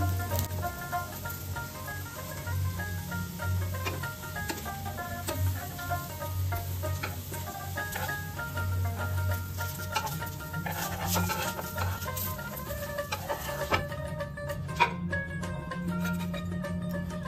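Patisapta pitha batter frying in oil in a nonstick pan with a kheer filling gives off a soft, steady sizzle and hiss that runs continuously beneath a tonal background.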